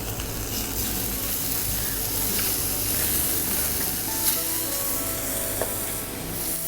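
A beef fillet searing in a hot pan gives a steady, close, broadband sizzle and hiss, with a few faint pops and clicks and no talk.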